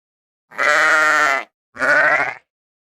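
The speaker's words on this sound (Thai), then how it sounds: "เด็กๆ ไปฟังเสียงของแกะกันค่ะ" A sheep bleats twice up close and loud, a long wavering call followed after a short pause by a slightly shorter one, with nothing else heard.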